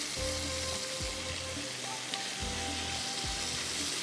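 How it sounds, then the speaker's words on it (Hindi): Meat frying in a spiced masala gives a continuous, close sizzle, with a few dull stirring knocks and scrapes over about four seconds. "थोड़ा सा इसको पहले भूनेंगे"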